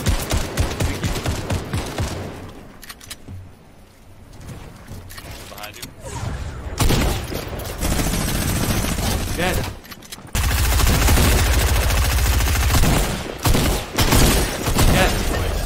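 Rapid minigun fire rattles in dense, sustained bursts during a Fortnite Arena Duos match, with loud stretches of continuous shooting broken by short gaps and players' voices talking over it.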